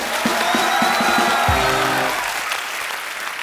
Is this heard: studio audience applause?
yes